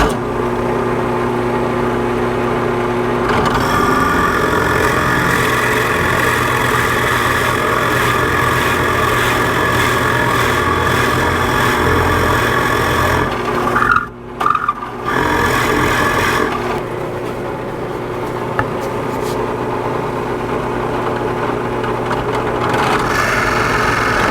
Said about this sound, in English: All we need to do is drill all the way down through.